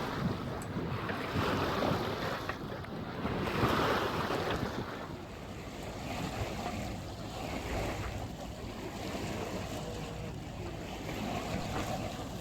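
Waves wash and wind buffets the microphone aboard a Westerly Seahawk 35 yacht motor sailing out into Mumbles Bay, with a continuous rushing hiss that swells gently and no one talking.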